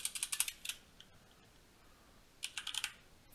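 Quick clattering keystrokes on a computer keyboard come in two short bursts at close range, separated by a quiet pause, with no talk over them.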